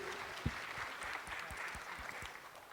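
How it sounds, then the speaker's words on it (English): An audience at an expert panel on branded residences and hotel investment applauds in a soft, steady wash of clapping with a few sharper claps standing out, fairly distant and even throughout. "round of applause for everyone"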